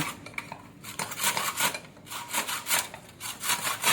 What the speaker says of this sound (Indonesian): memotong dulu karet yang bagian atas ini dengan gergaji kayu